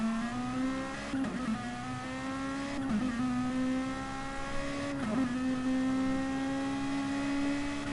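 Touring race cars, including a Lexus, running at Bathurst in GT Sport, a steady high engine drone near Conrod Straight with rising pitch and a few sharp gear-shift blips, loud and sustained.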